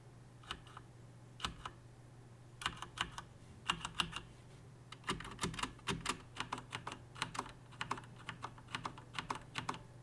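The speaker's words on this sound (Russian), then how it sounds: "сделать вид, что я печатаю, э, и понажимать эти клавиши впервые в жизни" Fingers type on an HP Omen Encoder gaming mechanical keyboard with Cherry MX Red switches, a steady flurry of light, quick key clicks in uneven bursts, close and alone over a faint low hum.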